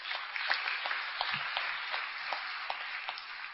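An audience applauding at a sobriety recovery talk, steady clapping with sharp individual claps standing out from a dense wash, sustained at a moderate level throughout.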